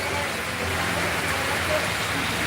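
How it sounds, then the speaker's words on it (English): Rain falls steadily, a dense even hiss of drops on surfaces, loud and close for the whole moment with no break. "It's raining."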